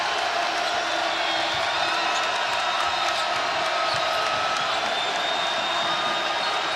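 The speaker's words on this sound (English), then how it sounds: "a good crowd on this Sunday, and they have come to life here late" A basketball crowd at Fertitta Center roars and cheers late in a Sunday college game, a dense, sustained wall of noise filling the arena with no break.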